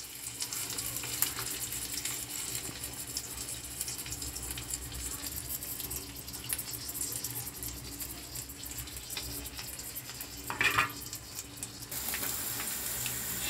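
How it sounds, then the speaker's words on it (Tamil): Marinated fish frying in oil in a nonstick pan, a steady hiss and crackle running throughout at moderate level, with a brief louder burst near the end. "நம்ம மீனை வந்து நல்லா பொரிச்சாச்சு"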